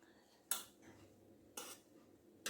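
A metal spatula scrapes milk cream up onto the sides of a wok over a low flame while rabri cooks, giving three short separate scrapes, quiet and close, with a faint low simmer between them.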